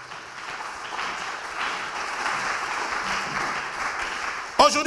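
A church congregation applauds and cheers for Jesus during a worship service. Sustained crowd clapping and cheering fill the whole span at moderate loudness, with a voice breaking in over it at the very end.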